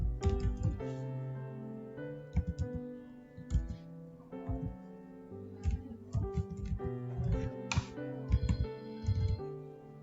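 A BL number typed on a computer keyboard: bursts of close, crisp key clicks in an irregular rhythm over ten seconds, with short pauses between groups of keystrokes.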